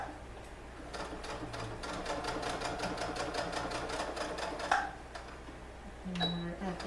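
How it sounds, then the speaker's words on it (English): A sewing machine runs a steady, rapid stitch along a leggings seam, then briefly reverses to back stitch and secure the end, with a short pause and a clack near the finish; close and moderately loud. "we're just going to back stitch"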